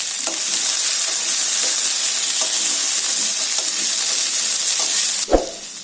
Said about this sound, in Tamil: வெண்டைக்காய் சேர்த்துட்டு ஸ்டவ்வை மீடியம் ஃப்ளேமுக்கு கொஞ்சம் கம்மியாவே வச்சுட்டு அதோட வளவளப்பு போற வரைக்கும் நல்லா வதக்கிக்கலாம்.